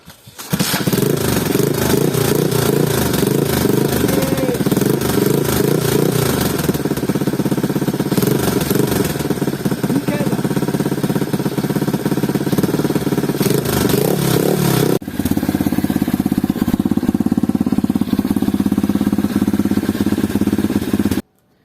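An Apollo 125 RFZ dirt bike, just repaired after a carburetor problem, fires up and idles loudly and steadily up close, the single-cylinder engine chugging with a rattly, uneven rhythm that shifts tone partway through.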